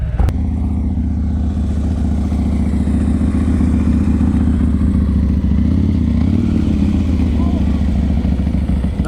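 A motorcycle idles and creeps along at very low speed during a slow-speed riding practice session, its engine a steady low rumble throughout, close and continuous, with a rider slipping too much clutch.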